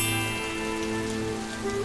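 Steady rain falling in a cartoon story, a dense, even hiss of drops on a surface continuing without a break and with no talk.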